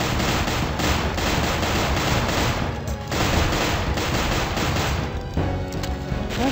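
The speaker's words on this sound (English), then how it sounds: "I'm coming to this room to shoot some monsters" Gunfire sprays at monsters in a video game, a loud, sustained stream of rapid shots with brief pauses between bursts.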